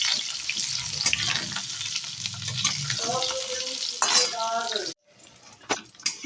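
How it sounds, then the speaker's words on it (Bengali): Eggplant and potatoes sizzle and crackle steadily in a hot pan, stirred now and then, with a brief pause near the end; no one speaks. "বেগুনটা হালকা ভেজে নেব"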